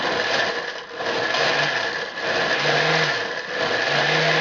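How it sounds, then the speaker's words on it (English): A blender roars continuously with a gritty, churning grind, pulsing slightly as ice is crushed up close. "You can hear the ice blending up there."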